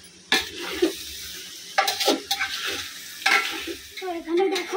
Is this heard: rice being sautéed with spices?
yes